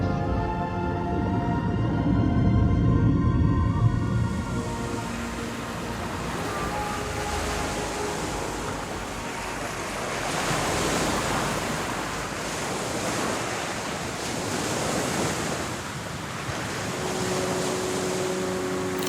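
Ocean waves wash continuously onto a sandy shore, a broad steady roar of surf with gentle swells in loudness and some wind noise, with no voices.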